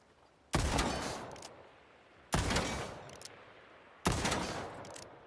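Three loud, close gunshots from a scoped rifle in a video game, each a sharp crack followed by a decaying echo tail, spaced nearly two seconds apart.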